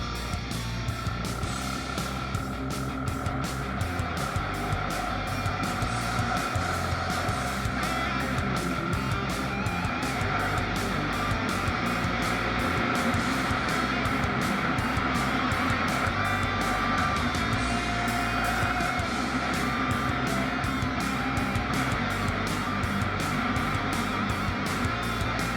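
A Yamaha SR400 motorcycle with a replaced muffler roars continuously at high revs at full speed, a steady loud engine drone with rushing wind noise throughout.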